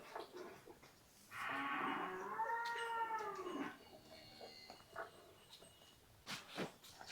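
A Holstein Friesian (HF) cow on a farm lets out one long, loud, drawn-out moo that wavers in pitch, followed by quieter farmyard noises and soft thumps.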